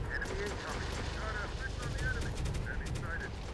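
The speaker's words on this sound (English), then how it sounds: "So we are providing return fire." Rapid automatic gunfire crackles in the Terminator Dark Fate Defiance video game, fairly quiet and dense, with bursts layered over a low rumbling battle background.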